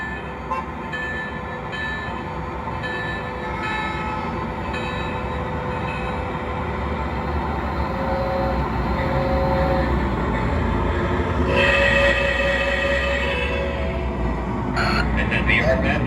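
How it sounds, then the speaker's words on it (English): Model trains on a Gettysburg layout run out on departure, a continuous rumbling rolling sound with several short whistle toots and, near the end, a louder whistle burst, under faint background voices. "now we can run the train and chugs and whistles and smokes"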